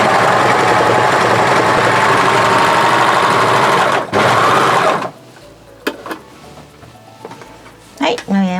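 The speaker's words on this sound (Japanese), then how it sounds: "用意した袖のリブのところを中表にして半分に折って、でここをロックミシンかけます。" An overlock serger stitches a folded sleeve rib knit: a loud, steady mechanical whir runs for about four seconds, dips briefly, surges again, then stops, leaving quiet handling clicks and rustles.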